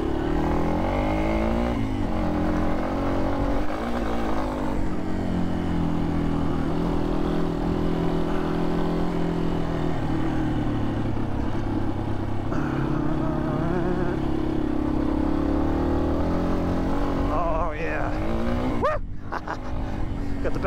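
A Yamaha XT250 dual-sport motorcycle rides laps on a wet track, its single-cylinder engine droning steadily and rising and falling with throttle, close and loud from onboard, with a rider talking over the engine.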